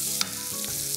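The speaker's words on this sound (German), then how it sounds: "Bei umso größerer Hitze kommt nun auch grob gehackter Zwiebel in eine andere Pfanne, in unserem Fall in den Wok." Coarsely chopped onion fries in a hot wok with a loud, steady sizzle and a couple of brief stirring scrapes, with no voices.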